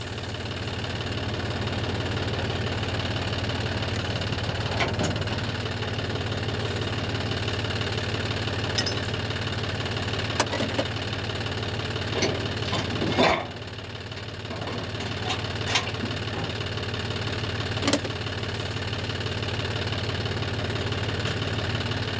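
A tractor engine idles steadily nearby, a low rumbling drone with a few faint clicks and knocks over the whole stretch.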